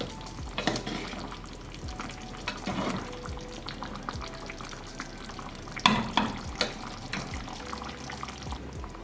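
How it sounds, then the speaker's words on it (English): Kerala fish molee in a pan being given a quick, gentle stir, with bubbling liquid and the clatter of a spoon against the pan over a steady frying sizzle. "Give it a quick stir."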